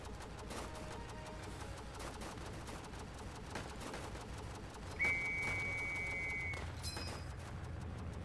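Machine gun fire from an indie video game, a dense spray of quiet rapid bursts running throughout, joined midway by a sharp whistling tone that lasts a couple of seconds.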